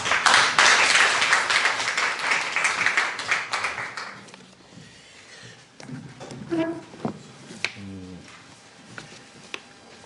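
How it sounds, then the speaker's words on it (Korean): Audience applause at a university seminar welcoming a professor, a dense burst of many hands clapping for about four seconds before fading to a few scattered claps amid faint voices and shuffling. "박수로 환영해 주십시오"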